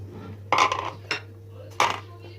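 A metal spoon stirs sugar in a pot until it melts, for semolina halva, giving three short clinking, scraping bursts against the pot over a low steady hum.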